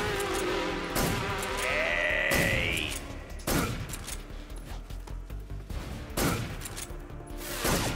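Gunfire in Metal Gear Solid 3 plays as sharp, spaced shots with clattering impacts at moderate loudness. Game sound effects, including a brief bleating call, are mixed in among the shots.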